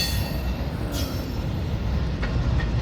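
A freight train with flatbed cars rolls past loudly and close, a continuous rumble of wheels on rails with brief metallic squeals, no voices.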